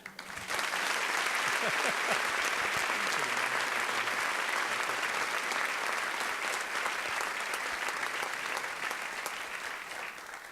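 Convocation audience at a Minnesota school district opening event applauding continuously for over ten seconds, a dense, loud and steady clapping that fades slightly toward the end.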